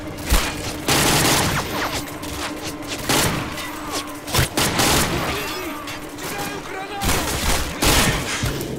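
Dense gunfire and explosions in the video game Call of Duty Modern Warfare 2, rapid overlapping bursts and thuds through a loud, continuous battle din, with faint game radio chatter in the background.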